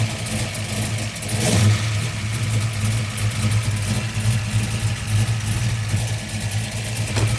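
1969 Ford Mustang Mach 1 engine with the hood open runs loud and close, a blip of revving early on, then settling into a steady, lumpy low idle with occasional throttle swells, no voices.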